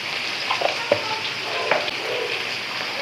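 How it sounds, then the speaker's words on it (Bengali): Vegetables frying in a pan with turmeric, salt and coriander powder give a steady, close sizzle, broken by a few soft spatula knocks and stirring scrapes, with no voices. "কিছুক্ষণ হলুদ লবণ ধনিয়া গুঁড়া দিয়ে আমি হচ্ছে এই সবজিটাকে ভেজে নেব"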